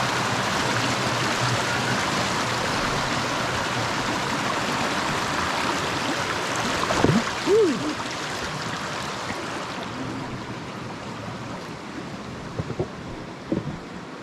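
A small stream rushes steadily at a trail water crossing on a March hike near Pinnacle Mountain, its continuous wash close and full, with a few brief knocks and scuffs near the end.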